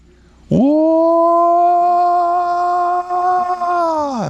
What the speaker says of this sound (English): What does a Bigfoot howl sound like?